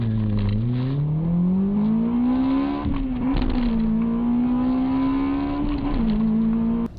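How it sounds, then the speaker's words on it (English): A Toyota 1.8-liter engine in a manual car revs hard toward its high redline, rising steadily in pitch through gear pulls with brief dips at the shifts, loud and close with no talking. "One thing to note about this engine is that it has an extremely high redline, and if you ask me, sounds pretty good."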